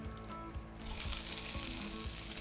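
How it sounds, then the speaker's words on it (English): Steady, loud sizzling and crackling of spicy Italian sausage frying in a hot Dutch oven, continuous throughout with no voices. "You hear that sizzle? That's what you want to hear."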